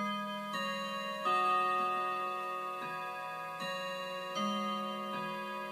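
A mantel clock ticks steadily and evenly, close by, with a faint ringing resonance hanging under each beat.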